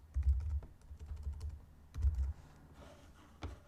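Typing on a computer keyboard while building a website page, a few quick bursts of soft key taps with pauses between, close and quiet with no talking.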